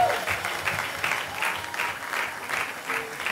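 A church congregation claps in a steady, dense round of applause with faint cheering mixed in, continuing at an even level throughout.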